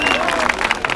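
A crowd applauding at a freestyle rap battle, a brief burst of clapping with a voice calling out over it.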